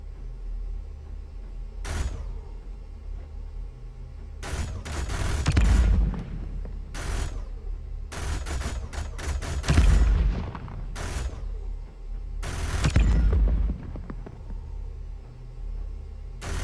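Spaceship guns fire at enemy targets in the VR space-combat game Eve Valkyrie Warzone: several loud, separate volleys of rapid shots with short quiet gaps between them, and nothing else heard.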